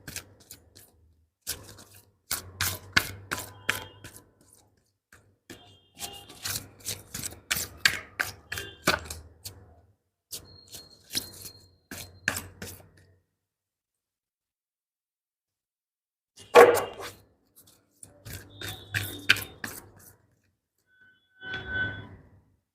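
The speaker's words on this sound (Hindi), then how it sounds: "मैं कार्ड्स को ज़रा मिक्स कर लेती हूँ" Tarot cards riffle and snap in quick bursts of crisp clicking flutters, several close shuffles separated by short pauses, with no voice heard.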